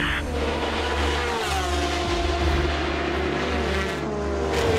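GT race cars, a Ford on old tyres and a Ferrari on new ones, roar past in an endurance race, their engines loud and close with shifting pitch as they accelerate.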